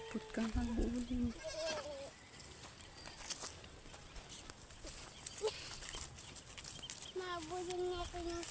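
A goat bleats nearby outdoors, a few wavering cries at the start and again near the end, with quieter people talking and rustling in between.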